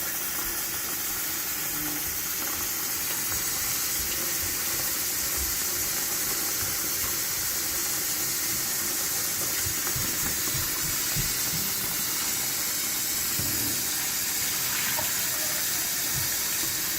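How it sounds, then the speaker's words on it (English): Steady rushing of cold tap water pouring into a pot, continuous and close, with faint clinks and no talking. "Actually, a better way to do it is to just add cold water."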